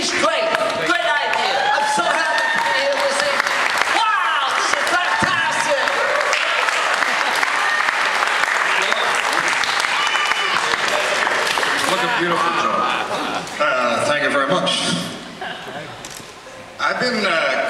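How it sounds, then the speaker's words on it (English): Applause fills an arts awards ceremony, loud and sustained for most of the stretch with sharp individual claps standing out, then thins near the end while a speaker's voice carries over it. "We really should clap our hands to Clayton Patterson tonight."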